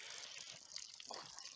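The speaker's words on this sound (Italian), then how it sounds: "Qui c'è una bellissima sorgente." Water flows from a mountain spring on Monte Zatta as a faint, steady trickle and splash that holds even for the whole moment, with a slight rise near the end.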